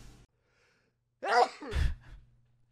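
A single sneeze bursts out close by, sharp and loud, followed by a brief breathy tail, with near silence before it.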